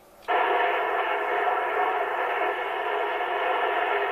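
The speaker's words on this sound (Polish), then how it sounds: "słyszę, że ktoś tam moduluje, ale nie rozumiem, co tam mówisz." An amateur radio transmission bursts in as a loud, steady band of hissy, garbled noise with no clear words, lasting several seconds.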